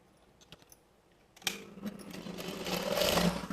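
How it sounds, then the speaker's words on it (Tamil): A sewing machine stitches chudidar pant pieces, starting after a few light clicks and then running in a steady, building whir up close. "இப்போ இது மேலேயே வச்சு ராங் சைடு வச்சு நம்ம இப்படியே மேலே ஸ்டிச் பண்ணிகிட்டே வரப்போகிறோம்"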